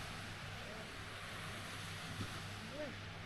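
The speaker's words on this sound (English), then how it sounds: "there's the ocean" Surf rolling onto a black sand beach makes a steady, broad wash with a low rumble and some wind noise on the mic, continuous and moderately loud.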